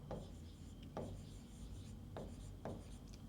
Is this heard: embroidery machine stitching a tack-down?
no